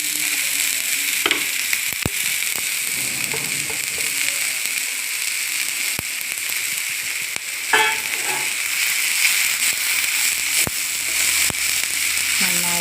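Ivy gourd (kovakka) fries in a pan with a steady, dense sizzle, while scraping and stirring strokes and a few sharp taps of the spoon cut through, and a voice speaks quietly underneath.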